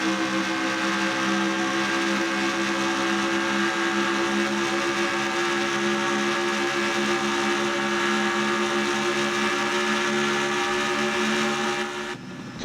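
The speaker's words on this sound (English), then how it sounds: "Let's just listen to this engine then when it goes through this corner here." A Craftsman Cup Series race car at Papyrus runs flat out through a corner, its engine holding a loud, steady, unbroken drone that drops away abruptly just before the end.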